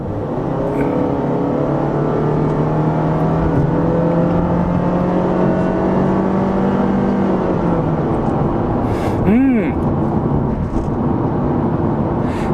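A Honda Freed gasoline car accelerates from about 50 km/h onto a highway, its engine drone climbing steadily in pitch under constant road noise, with a short chirp near the end.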